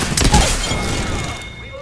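Rapid burst of gunfire in the video game Apex Legends Duos, sharp loud shots rattling off in quick succession before trailing into a ringing decay.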